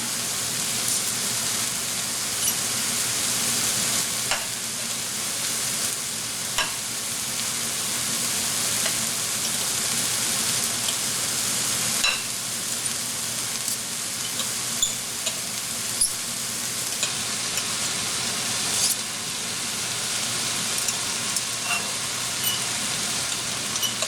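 Meat added to a pan of vegetables for a bean stew, sizzling and frying in a steady bright crackle with scattered pops, close and constant throughout.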